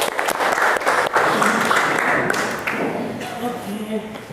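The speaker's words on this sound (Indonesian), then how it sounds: "tepuk tangan untuk kita semua" Applause from a class of students in an Indonesian school lesson, right after they sing Indonesia Raya: dense clapping that holds steady for several seconds and thins toward the end, mixed with a few voices.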